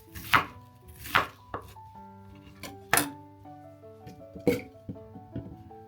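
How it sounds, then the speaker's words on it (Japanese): A kitchen knife chops vegetables on a cutting board for a Korean-style white kimchi, with sharp irregular thuds and clacks under soft background music and no speech. "りんごは半分、皮ごと使うのでよく洗ってから切ります。"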